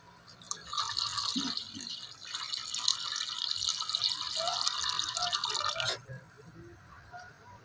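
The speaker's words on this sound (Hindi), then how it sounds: "अभी कोकोनट मिल्क ऐड करेंगे।" Coconut milk is poured into a pan of catfish curry, giving a continuous, trickling liquid pour that runs for several seconds before stopping abruptly, leaving a faint room hush.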